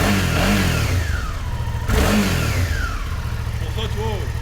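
A Suzuki V-Strom 650 XT motorcycle with its stock exhaust revs up close in a few short blips over a steady idle, loud and mid-pitched, with each rev rising and falling.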